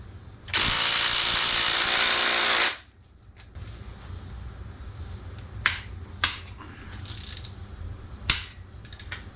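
A Ryobi power tool whirs in one loud, steady burst of about two seconds while working on an LS junkyard engine's main cap bolts with a 15 millimeter socket, followed by quieter scattered clicks and metallic knocks.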